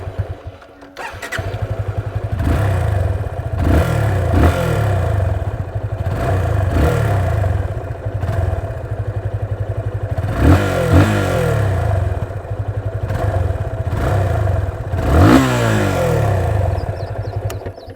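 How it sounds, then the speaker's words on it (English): A 2021 Yamaha FZS 25 motorcycle engine starts, then idles and is blipped repeatedly, its throaty, bassy exhaust rising and falling in several close, loud revs. "let's fire the engine up and listen to"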